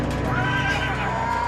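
Horses neigh and whinny among a herd of about 150 being checked by rangers and cowboys, a couple of loud drawn-out calls over steady hooves and animal noise throughout.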